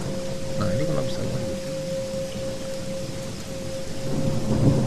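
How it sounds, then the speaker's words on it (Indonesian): Rain falls steadily with rolling thunder rumbling through, alongside a constant electrical hum and faint low voices in the background. "Petir tadi Pak, listrik mati."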